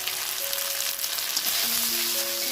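Cauliflower sautéing in a hot pan for a poppy-seed curry, giving a loud, steady, close sizzle with faint sustained tones running underneath.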